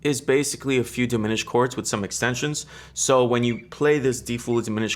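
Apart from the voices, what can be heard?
None of the usual background noises is heard.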